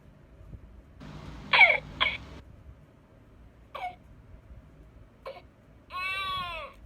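A Baby Think It Over infant simulator doll lets out a few short electronic coughs and whimpering cries, spaced apart in a quiet room and ending in a longer wavering cry.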